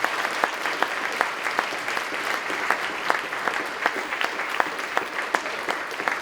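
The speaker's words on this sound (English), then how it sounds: "If you give a round of applause to the team," Audience applause at a talk on mission-driven knowledge exchange, a steady, dense clatter of many hands clapping continuously throughout, with sharp individual claps standing out from the wash of sound.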